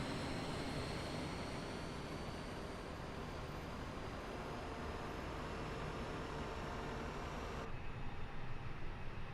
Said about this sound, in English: Here it's starting up the engine